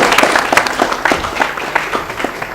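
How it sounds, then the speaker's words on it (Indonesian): A school audience in Palembang claps for a student called up front, with loud, fairly close applause and distinct sharp claps throughout. "tepuk tangan dulu"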